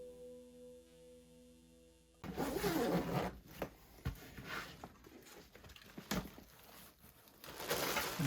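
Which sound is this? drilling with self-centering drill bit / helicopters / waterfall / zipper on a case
zipper on a case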